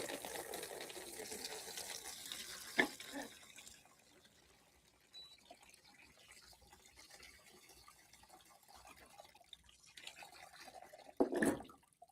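Water pours and splashes while an ice cream machine barrel is rinsed out into a bucket, a steady soft gush with a sharper splash early on and a louder surge near the end.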